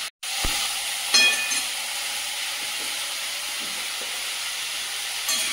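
Vegetables frying in hot oil in a kadai make a loud, continuous sizzle and hiss, with faint stirring scrapes now and then and no voices.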